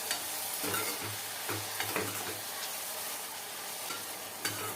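An eggplant vegetable curry is stirred in a sizzling pan after salt and turmeric are added. A spatula scrapes in several quick strokes over a constant soft frying hiss, close by.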